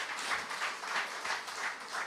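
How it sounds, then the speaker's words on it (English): Steady, fairly faint applause from a crowd, a continuous wash of many hands clapping at a distance. "Give him a round of applause."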